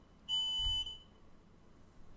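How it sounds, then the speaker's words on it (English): A single electronic beep sounds once for about half a second, a high steady tone, then fades into quiet room noise. "And something's beeping"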